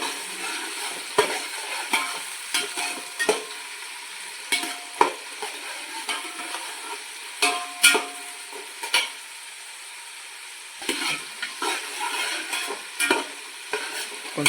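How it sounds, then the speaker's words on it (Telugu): Green peas and beans frying in a pan sizzle continuously while a spoon stirs and scrapes through them in repeated, uneven strokes, close and fairly loud, with no voices. "కొంచెం వేగుతుందండి."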